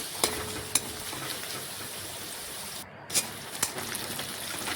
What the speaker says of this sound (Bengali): দেখুন এইভাবে নাড়াচাড়া করে বেশ কিছুক্ষণ সময় নিয়ে আমি পেঁয়াজটা একটু লাল লাল ভেজে নিচ্ছি।